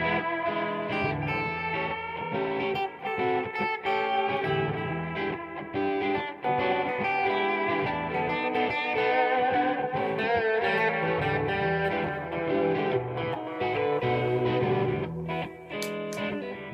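An electric guitar runs through a Lovepedal Stir of Echoes delay pedal, playing sustained distorted chords and notes with echoing repeats, loud and continuous without speech.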